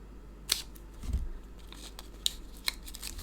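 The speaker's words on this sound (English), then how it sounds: "I've got a little strip down there I'm going to cut off" Scissors snip a strip off a greeting card in a few sharp, separate cuts close by, with a soft rustle of card between them.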